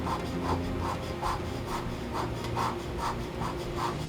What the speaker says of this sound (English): Hand scraping is used to maintain and fix the accuracy of machinery